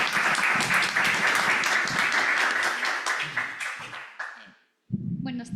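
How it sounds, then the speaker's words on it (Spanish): An audience applauds after a doctoral thesis defense in Quito, with steady dense clapping that tapers off, a brief silence, then room noise and a voice resuming. "así que pido un aplauso."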